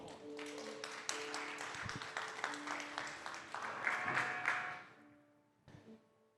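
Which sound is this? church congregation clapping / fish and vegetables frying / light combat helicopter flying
church congregation clapping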